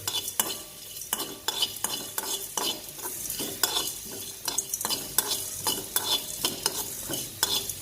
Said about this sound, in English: Just for a few minutes you dry roast it, that's all.